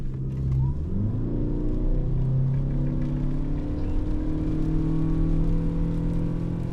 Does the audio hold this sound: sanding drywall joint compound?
no